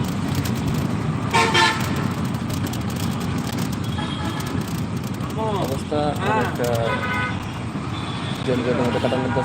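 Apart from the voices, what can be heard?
traffic jam with car horns on Gulistan Road, Dhaka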